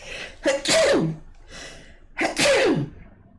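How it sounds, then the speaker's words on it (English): Two sneezes, close and loud, each with a sharp intake of breath before it and a short pause between them. "Excuse me, I'm going to sneeze."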